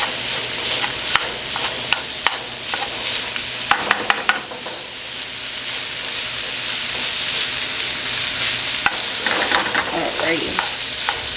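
Meat for a meat lovers pizza sizzles steadily in a hot pan while a utensil scrapes and clacks through it in bursts; a voice says one brief word.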